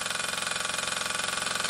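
A Weller AM Mk4 model engine built as a school project runs steadily, giving a loud, fast, even buzzing drone with a rapid regular pulse and no pauses.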